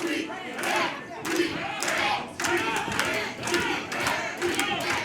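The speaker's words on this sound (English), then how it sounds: "Crowd here cheering on Patrick Wheatman, giving him some motivation." A wrestling crowd at a live show cheers loudly and continuously in rising and falling waves, with shouts and scattered clapping mixed in and no clear speech over it.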